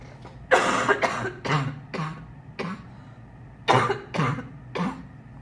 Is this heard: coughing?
yes